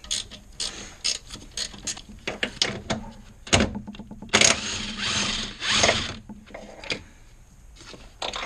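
A ratchet wrench clicks in quick bursts while loosening a bolt near a car engine's motor mount, with intermittent metallic ratcheting, a few thunks and pauses, close up and with no talking.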